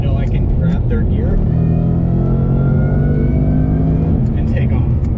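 A 2015–2017 Ford Mustang GT on street tires accelerates hard in third gear, its loud engine drone rising steadily and close, with someone talking over it.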